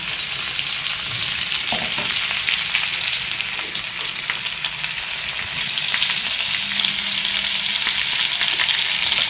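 Black pomfret fish fries in hot oil, giving a loud, continuous crackling sizzle close up, with light spattering and occasional stirring sounds and no voices.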